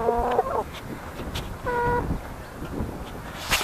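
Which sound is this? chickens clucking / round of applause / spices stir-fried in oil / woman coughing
chickens clucking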